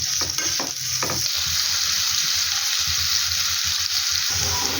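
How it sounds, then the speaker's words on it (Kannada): Onions sizzling steadily in a hot pan while cooking, with a constant bright frying hiss and a few stirring scrapes early on, close and continuous throughout with no talk. "ಈಗ ಈರುಳ್ಳಿ ಆ್ಯಡ್ ಮಾಡ್ಕೊತಿದ್ದೀವಿ. ಒಂದು ಚೆನ್ನಾಗಿ ಫ್ರೈ ಮಾಡ್ಕೊಳ್ಳಿ ಈರುಳ್ಳಿ."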